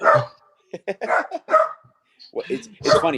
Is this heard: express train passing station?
no